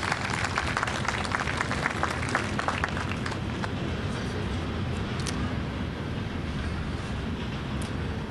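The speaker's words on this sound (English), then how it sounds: "let's give them a big round of applause" Applause from an outdoor Veterans Day parade and Salute to Freedom ceremony crowd, a steady wash of distant clapping that runs the whole time with scattered sharper claps up front.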